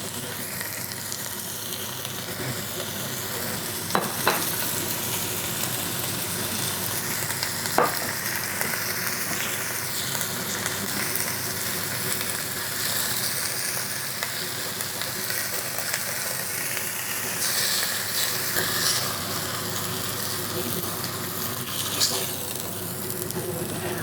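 Beef cheeks sear in a pot over low heat at 160 degrees, giving a steady sizzle and hiss throughout with a few brief stirring clinks on top.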